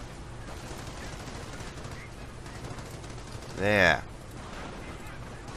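Gunfire from the World War II strategy game Company of Heroes, one brief burst of shots in the middle, heard under a low game ambience while a player talks.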